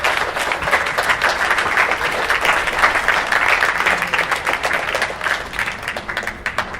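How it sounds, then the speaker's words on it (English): Sustained audience applause at a dedication ceremony for a mural painted by Xaverian High School teachers and students, many hands clapping steadily and densely, fairly close, then thinning slightly toward the end. "Let's give another round of applause"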